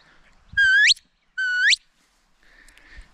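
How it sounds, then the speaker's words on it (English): A sheepdog away command given to a border collie: two identical short whistles, each sliding steeply upward at the end, spaced about half a second apart. They sound loud and near, followed by faint background noise, with no speech. "This will be the away whistle."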